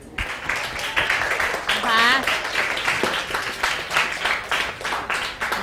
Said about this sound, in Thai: ปรบมือให้เพื่อนอีก